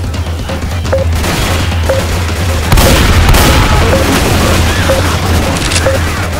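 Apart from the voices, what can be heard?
gunfire in the video game Left 4 Dead 2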